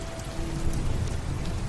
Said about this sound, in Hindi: लेकिन आज मुझे इस बारिश के होने की बहुत खुशी है